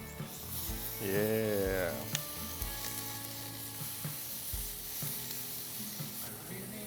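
Chicken shawarma pieces sizzle loudly over open grill flames as they are flipped, a steady frying hiss with a few sharp clatters, while a voice speaks briefly.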